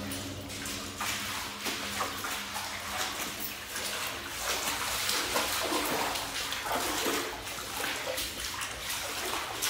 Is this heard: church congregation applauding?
no